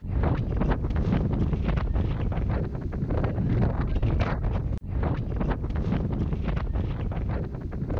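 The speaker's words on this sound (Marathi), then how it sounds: "रात्रभर घुसला वारा." Strong wind buffets an exposed hilltop fort campsite, the kind of gale that blows a tent cover away. A loud, continuous roar with gusty surges fills the whole stretch and cuts out for an instant midway. No one speaks.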